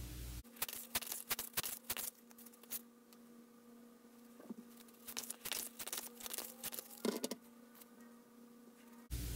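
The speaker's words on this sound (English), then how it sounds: "So I'm going to shuffle a couple more cards and see what else comes through." Tarot cards being shuffled in close-up, soft quick riffling and flicking bursts in two separate clusters over a quiet room hum.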